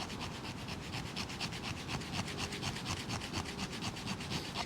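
A scraper strikes a ferro rod to throw sparks for starting a fire, giving a close series of rapid, rasping strokes in a steady rhythm.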